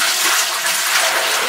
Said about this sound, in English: I'll pour the bucket in.